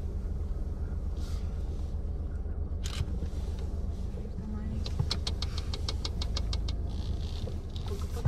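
A car driving along a road, its steady engine and road rumble running throughout, joined by a quick burst of rapid clicking near the end, with a voice talking over it.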